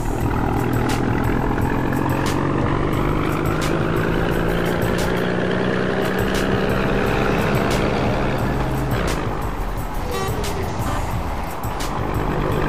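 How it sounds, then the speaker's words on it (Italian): A heavy truck engine drones in a truck driving video game, a steady low loud roar throughout with a rising whine, holding constant before shifting in tone near the end. "Sentite che pezzo di rombo che c'ha."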